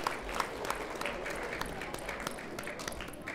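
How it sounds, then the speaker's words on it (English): An audience at a county science fair ceremony gives a soft, steady round of clapping that carries on throughout, with faint voices beneath it. "Let's give a round of applause."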